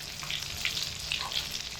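Close, steady sizzling of cauliflower and potato-egg chops frying in a pan, a busy even hiss with small pops throughout and no voices.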